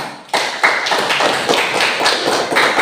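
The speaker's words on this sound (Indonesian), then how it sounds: "Ya, tepuk tangan." Students in a classroom clap their hands together, a series of sharp, loud claps in a quick, slightly uneven rhythm lasting a few seconds, with no talking.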